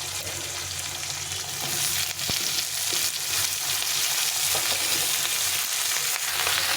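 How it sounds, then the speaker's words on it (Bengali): Potato, eggplant, onion stalks and cauliflower fry in a pan for a winter chorchori, giving a steady, loud sizzle throughout with occasional stirring clatter, and no voices. "এখন আমি সবজিগুলো দিয়ে দেবো"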